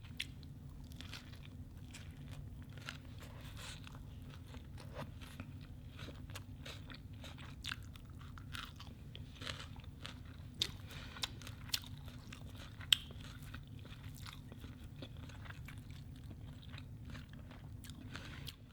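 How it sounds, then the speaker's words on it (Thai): Someone eating larb moo, Thai minced pork salad with vegetables, with steady close crunching and chewing over a low background hum throughout, and a few sharper bites standing out. "วันนี้มากินลาบหมูกันค่ะ"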